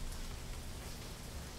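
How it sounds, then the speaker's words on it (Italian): Rain beats down steadily, a dense continuous hiss of drops on surfaces, heavy and unbroken throughout with no voices. "La pioggia ubriaca picchia"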